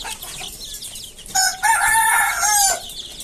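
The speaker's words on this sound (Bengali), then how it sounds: "এখানে যে মুরগিগুলো আছে" Hens on a small poultry farm cluck and squawk, a clear, close run of loud, drawn-out calls in the middle over a low background of quieter clucking.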